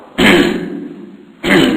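A man clears his throat twice, imitating how a caller cleared his throat from a minaret before the dawn call to prayer. The rasps are loud and close, separated by a brief pause.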